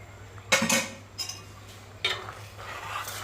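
A spoon stirring vegetable theeyal curry in a metal pot gives a few close scraping clinks in two short bursts, with quiet pauses between and a low steady hum underneath.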